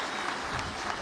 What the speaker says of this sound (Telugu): గట్టిగా చప్పట్లు కొట్టి ఆయన అభినందించండి.